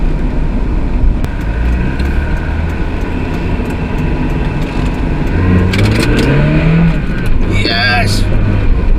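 An old Mazda MX5 with an open differential drives hard and slides sideways, its engine droning and rising in pitch under a loud, close cabin rumble, with someone talking over it.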